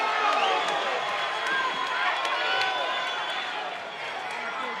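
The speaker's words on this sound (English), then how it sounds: "the crowd going wild here at Monona Terrace" Crowd cheering and roaring at a live fight at Monona Terrace, a dense, sustained wash of voices at steady loudness with occasional louder surges.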